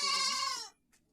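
A young goat kid gives a single loud, close, wavering bleat lasting under a second, followed by a faint short sound and then quiet.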